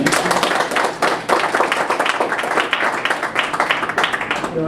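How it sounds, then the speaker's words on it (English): Audience at a business talk applauding, a brisk burst of clapping from a modest crowd, fairly close and steady through its few seconds. "I want to give Scott an applause"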